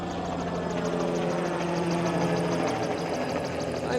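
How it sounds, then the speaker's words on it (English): A helicopter follows rally cars near a WRC Rally Mexico stage end, its rotor thudding steadily at a moderate distance. A continuous, even drone carries through the whole stretch with no voices. "there are various different helicopters that are officially following the route"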